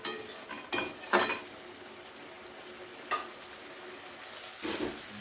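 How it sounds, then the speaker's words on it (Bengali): Spices stir-fried in oil in a pan for a Bengali aar fish curry, with several short bursts of a spoon scraping and clinking against the pan over a faint background sizzle, with no voices. "আবারও একবার খুব ভালো করে সমস্ত মশলা একসাথে কষিয়ে নেব তেল না ছাড়া অবধি।"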